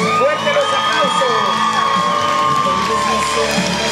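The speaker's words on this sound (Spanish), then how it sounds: "Fuerte los aplausos." A crowd at a quinceañera celebration cheers and whoops loudly, with shouts and some clapping rising together, close and sustained, while an announcer's voice carries over the noise.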